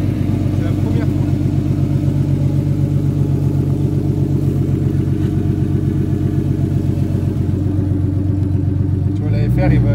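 A BMW E36 turbo engine revs on its first start, a loud, steady mid-pitched drone with rhythmic pulsing that holds throughout, overlaid with people talking nearby.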